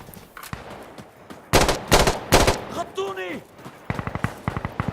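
Gunfire from the video game Insurgency Sandstorm: sharp loud bursts of shots, a swooping whine, then a rapid rattling volley, close and punchy.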